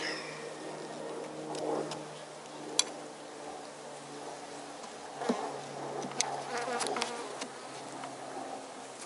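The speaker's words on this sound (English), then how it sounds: "I don't see anything other than some pissed off bees." Many agitated honeybees buzz in a restless, droning cloud near an apiary hive, with individual insects whining past and a few faint clicks and taps underneath.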